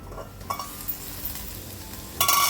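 Ivy gourd (tondli) cooks in a pan, a steady close sizzle with a couple of light stirring scrapes and a louder rustle of movement at the end.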